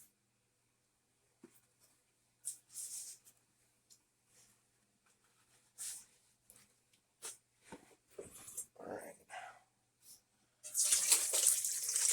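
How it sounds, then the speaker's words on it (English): Braised lamb stock is strained from a pot in short bursts of pouring and clinking, with scattered taps between and a louder rush of liquid at the end; no talking. "I'm going to strain out all the good liquid and stock that I've built up."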